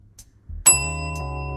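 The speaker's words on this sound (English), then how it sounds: "if you hit this little notification bell" A single bright bell ding rings out after a soft click, its clear tone sustaining and slowly fading.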